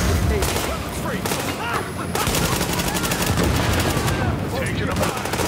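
Dense gunfire in Tom Clancy's The Division on a hard Police Academy mission, rapid overlapping automatic bursts that stay loud and near throughout, with a voice faintly mixed in.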